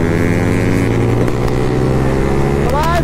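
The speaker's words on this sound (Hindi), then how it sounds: "साउंड चेक करो एक बार, साउंड के कमेंट करके जरूर बताना बाइकों का साउंड कैसा आ रहा" A motorcycle engine runs hard up close with dense low harmonic drone and a rising rev near the end, loud and continuous, on a foggy Himalayan road ride in Uttarakhand.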